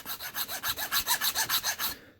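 A file rasps back and forth over a metal chassis part from an SCC locomotive kit, about a dozen even, rhythmic strokes close up, then it stops.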